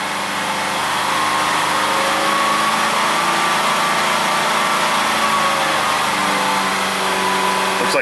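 A Ford Escape engine held steady at about 3,000 RPM, a loud, even mechanical drone with harmonic whine that stays constant throughout, with no speech over it.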